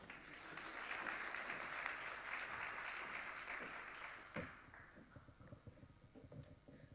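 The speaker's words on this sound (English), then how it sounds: "Another round of applause." Conference audience claps for a Visa executive coming to the stage; steady, dense applause lasts about four seconds, then breaks off sharply and leaves a few scattered claps and room noise.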